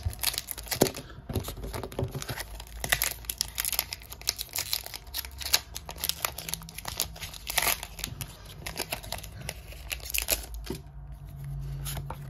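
Foil wrapper of a Pokémon Masquerade booster pack crinkling and tearing as it is opened, with dense, uneven rustling bursts that run steadily throughout, close and fairly loud with no talking.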